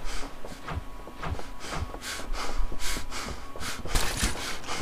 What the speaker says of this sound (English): I hear it like breathing.